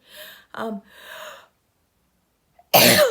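A single sharp, loud sneeze bursts out after a few breathy gasps and a short pause, close to the listener.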